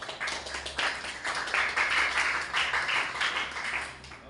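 Listeners at a farewell gathering for STAH DNJ 2024 community-service students applaud for several seconds, a dense, steady patter of many hands that swells slightly in the middle.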